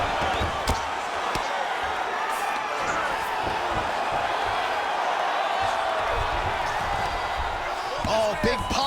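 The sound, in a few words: crowd roaring as fighters get back to their feet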